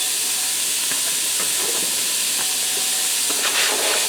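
Ground beef and diced onion fry on sear/sauté in a Ninja Speedi, a loud steady hiss and sizzle with faint scraping stirs underneath.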